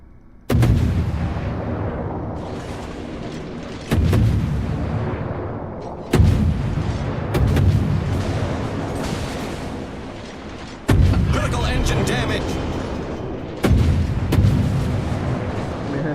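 Battleship secondary guns in World of Warships fire as five heavy booms spaced a few seconds apart, each a sharp blast followed by a long rumbling decay, loud and close without speech.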